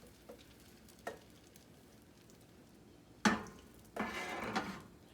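Crepe batter sizzling in a hot pan while being spread thin, with soft clicks of utensils on the pan and a louder burst of frying sizzle late, no talking.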